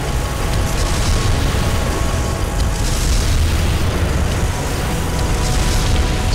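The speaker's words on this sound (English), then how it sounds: "It's shooting me with lasers, I don't like it." Laser fire and explosions in the mech video game Armored Core Nexus make a loud, dense, continuous rumble of booms and blasts with no pauses.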